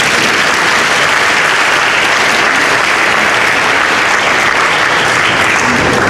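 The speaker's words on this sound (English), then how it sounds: "Dr. Willa Player deserves a big round of applause" A large baccalaureate service audience bursts into loud, dense, sustained applause for Dr. Willa Player, a continuous wash of clapping with no voices standing out.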